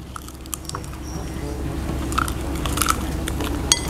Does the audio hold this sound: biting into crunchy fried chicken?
yes